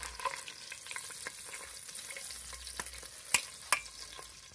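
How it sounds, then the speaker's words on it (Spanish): Pork steaks frying in oil, a continuous moderate sizzle with a few sharp scrapes and clicks of a utensil in the pan, including two louder knocks near the end; no one speaks. "ya terminamos de freír todos los bisteces"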